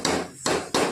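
Three sharp metallic clanks of a pressure cooker lid being shut, loud and close, spaced roughly a third of a second apart.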